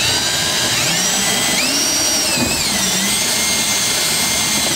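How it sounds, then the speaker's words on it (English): Power drill boring a half-inch hole through a plastic grommet in a truck bed, a loud continuous whine with the motor pitch rising and dipping as it bites, close and alone. "I'm just gonna drill a hole right in the middle of them, half inch hole"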